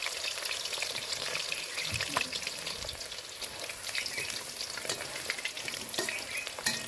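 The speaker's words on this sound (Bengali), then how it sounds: "এইভাবে আমি উল্টে পাল্টে সমস্ত মাংসগুলোকে ভেজে নিয়েছি।" Chicken pieces fry and are turned over in hot oil in a pan, a steady dense sizzle with occasional scraping stirs throughout, close and continuous with no talking.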